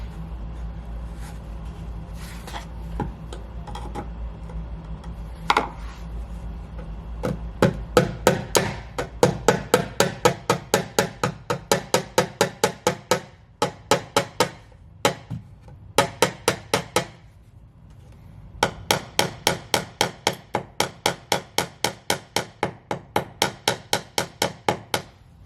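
Hammer blows drive small nails into wooden stairs during a carpet-to-wood conversion, a few scattered knocks at first, then long rapid runs of sharp, close, evenly spaced strikes with brief pauses between bursts.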